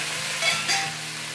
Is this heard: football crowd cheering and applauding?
no